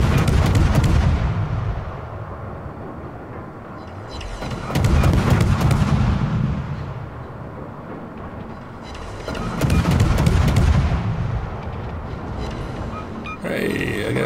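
The guns of a tier-8 Pan-Asian destroyer in World of Warships fire in three heavy booming salvos a few seconds apart, each swelling and slowly rolling away over a constant engine-like rumble.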